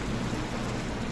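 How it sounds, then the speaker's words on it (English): Steady rain pours down in a Minecraft world as a dense, even hiss of falling drops that fills the whole moment without pause, moderately loud and unbroken. "It's raining its backside up."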